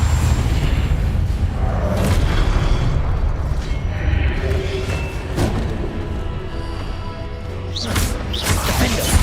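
Booming spell blasts from Confringo explosions in the video game Hogwarts Legacy, loud and close, striking repeatedly over dense rumbling combat noise.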